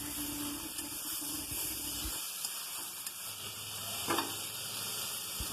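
Prawns being stirred into taro greens in a pan, a soft steady sizzle and hiss with occasional scraping stirs, fairly close.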